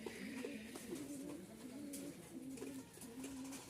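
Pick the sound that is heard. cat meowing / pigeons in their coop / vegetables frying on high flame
pigeons in their coop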